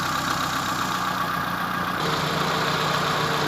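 A Mitsubishi E-Car 4G15 engine idles with a steady low hum while its radiator fan whirs continuously, the tone shifting slightly partway through.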